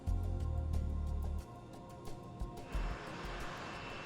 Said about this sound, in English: The recently serviced plane is a Brazilian-made Embraer E190.